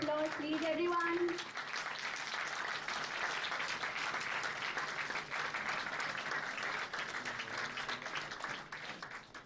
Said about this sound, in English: A bigger round of applause, please, everyone.